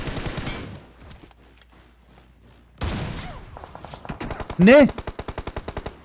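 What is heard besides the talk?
gunfire in a video game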